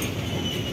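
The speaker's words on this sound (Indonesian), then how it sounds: "Kita harus mengabadikan momen kereta api Bung Talon, kereta semen tanpa membawa semen." An empty cement freight train shunting in a rail yard gives a continuous loud rumble with squealing wheels on the rails, close by and without voices.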